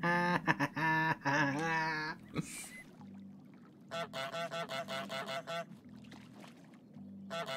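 Repeated goose honks from Untitled Goose Game, a run of short nasal calls in quick succession after a burst of other honking and a whoosh, loud and close with no talking over them.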